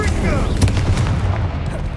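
A Flipendo spell fires in Hogwarts Legacy with sharp whooshing, zapping strikes and a punchy impact over steady rumbling combat noise.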